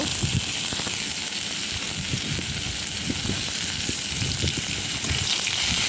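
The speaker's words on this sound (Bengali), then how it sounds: "পেঁয়াজ কিছুটা দিয়ে দিলাম পেঁয়াজটা একটু ভেজে নেব" Onions frying in oil in a pan, after pointed gourd and soy chunks were fried, give a steady close sizzle with a dense crackling hiss and low bubbling pops throughout, with no voices.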